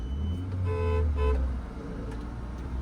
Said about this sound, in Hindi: हॉर्न दो इसको, हॉर्न।